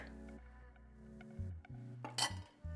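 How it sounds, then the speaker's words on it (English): Icing sugar being whisked into buttery milk in a bowl for lamington icing: soft, quiet metallic clinks and scrapes over a low steady hum, with a brighter burst of rattling near the end. "And just give it a whisk."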